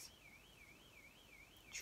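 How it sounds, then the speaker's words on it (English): A car alarm wails in a steady warbling siren tone that rises and falls repeatedly, heard at moderate distance. "Can you turn your car alarm off, please?"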